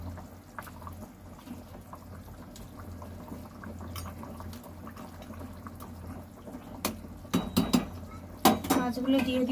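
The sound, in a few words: Bhetki fish pieces being added into simmering curry in pot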